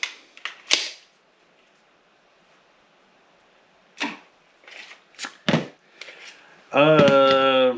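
A Mecgar magazine slides into a Glock pistol: a few sharp, close plastic-and-metal clicks and clacks separated by quiet pauses, followed by a short burst of a voice.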